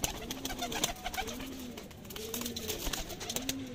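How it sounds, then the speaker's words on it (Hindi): Large pigeons kept by a fancier in Sialkot coo in repeated rolling phrases, each a soft rising-and-falling call, heard close and clear over light background noise. "माशाल्लाह काफ़ी तगड़े साइज में ये भी कबूतर है"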